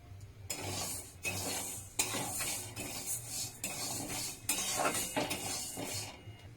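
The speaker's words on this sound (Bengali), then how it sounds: "গ্যাস জ্বালিয়ে শুকনো খোলায় মুগের ডালটা ভেজে নেব" Moong dal dry-roasts in a kadai over a gas flame, giving a steady gritty rustle and scraping of lentils being stirred against the pan. The sound comes in close, uneven strokes, with no talk.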